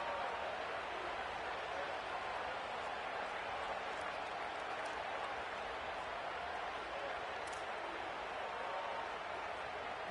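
A packed football stadium crowd roars in a steady, dense wash of cheering and clapping on a late third-and-four play in the final quarter, constant and loud throughout.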